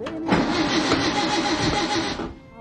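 A 1963 Volkswagen car engine cranks and starts, then runs in a steady loud idle-like rumble for about two seconds before cutting away.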